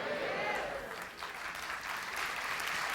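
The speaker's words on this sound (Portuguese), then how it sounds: "Quer aplaudir? Faça o melhor, aplauda mesmo." A church congregation applauds together, the clapping full and sustained at a modest level, with a brief dip partway through.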